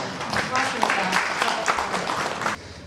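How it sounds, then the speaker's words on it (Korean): An audience applauds after a lecture, a dense patter of many hands clapping at a steady, fairly loud level for a few seconds before cutting off abruptly. "박수 한번 쳐주세요."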